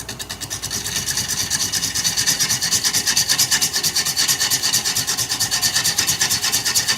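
A bowl gouge cuts into spinning mesquite wood on a lathe, giving a steady, close scraping rasp with a fast rhythmic flutter from tool bounce. No one speaks.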